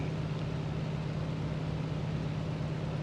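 A Ju 52m aircraft engine, running rough with engine problems at takeoff, gives a steady low droning hum that holds at constant pitch and level throughout, with no voices.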